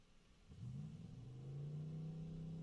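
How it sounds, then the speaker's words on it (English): Off-road race vehicle engine at a desert off-road race fires up and revs, its pitch climbing and then holding at a high idle, moderately close and continuous with no voices. "Doing a little rev tune after his throttle cable was broke, but now it sounded like it was idling high."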